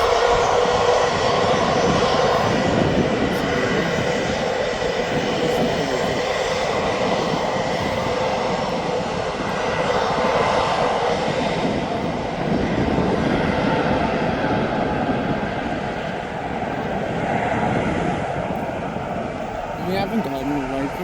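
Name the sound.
Ryanair jet airliner at Birmingham Airport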